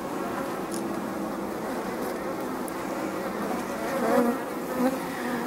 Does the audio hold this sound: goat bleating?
no